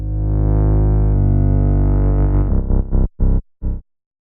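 Deep, buzzy sustained sub bass tone that begins chopping into slower and slower pulses before cutting off, a Soundtoys Tremulator tremolo effect winding down.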